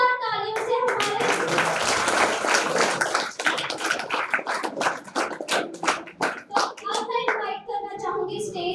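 An audience applauds after a stage play, a dense burst of clapping that thins into scattered hand claps with children's voices mixed in, fairly close.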